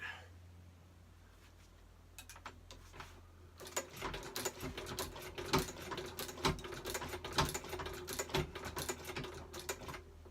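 A sewing machine stitches a tripod pouch, starting with a few sparse clicks and then running in a fast, steady rapid-fire patter that stays close and fairly loud to the end.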